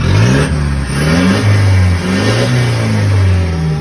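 A 2021 Mitsubishi Triton four-door pickup truck engine, not remapped, revs loudly up close, rising and falling in several throaty surges over a rumbling idle.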